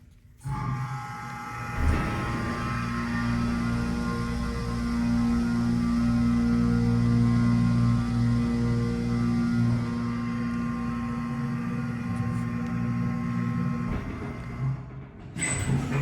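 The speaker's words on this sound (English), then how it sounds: "Let's hear the motor." A Mowrey hydraulic elevator motor hums steadily for about twelve seconds, a strong tonal drone with a pump whine, starting and stopping abruptly, heard close in an Orlando building's machine room.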